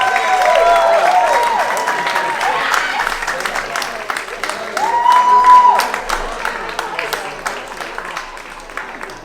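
An audience applauds at the Morning Pointe Seniors Got Talent show in Knoxville, with steady clapping throughout and a host talking over it.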